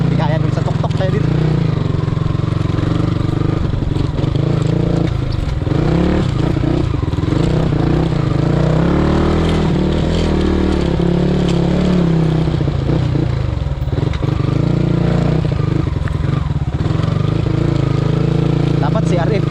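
A Kawasaki KLX motorcycle engine runs loud and close on a slippery trail, revving and rising and falling continuously while people talk over it.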